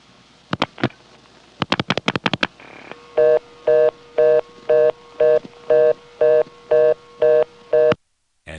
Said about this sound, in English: Now I'll flash a 1 and a 5, which will end up on the more conventional reorder tone.